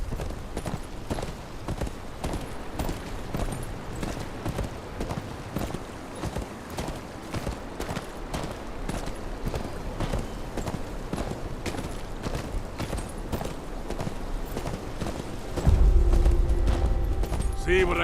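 Horse hooves clip-clop steadily in Game of Thrones: KingsRoad on PC, repeated hoof hits running through the whole stretch under game music, with a louder low rumble near the end.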